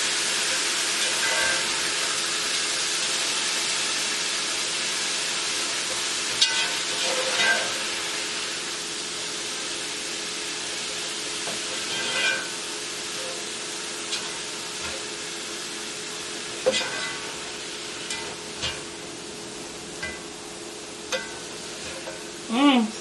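Cauliflower fried rice with soy sauce sizzles steadily in a pan, a constant loud hiss broken by occasional clicks and scrapes of stirring.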